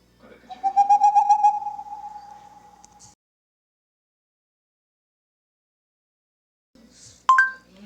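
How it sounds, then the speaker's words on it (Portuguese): A snowy owl call plays from a phone assistant's speaker: one long, steady tonal cry that fades out, then silence, then a short electronic chime. "Este é o som de uma coruja da neve"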